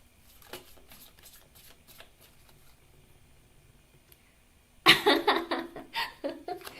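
Tarot cards being shuffled during a live reading, soft riffling and tapping at first, then a louder burst of rapid riffles and flicks close by near the end.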